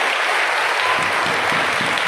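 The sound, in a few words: audience applause for the youth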